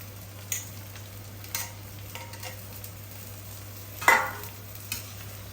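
Boiled raw banana pieces going into a pan, a quiet background sizzle over a steady hum, punctuated by a few distinct clinks and scrapes of a utensil, the loudest near the end.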